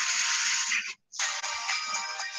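Phone ringtone going off during a lecture, a loud, bright electronic melody that plays on, breaks for a split second of silence, then resumes, with no talk over it.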